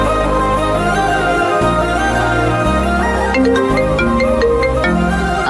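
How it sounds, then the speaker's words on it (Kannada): A mobile phone rings with an incoming call in a Kannada TV serial scene, a steady melodic ringtone that plays loud and continuous throughout with no talk over it. "ನೋಡಿ, ಅತ್ತೆನೇ ಫೋನ್ ಮಾಡ್ತಿದ್ದಾರೆ."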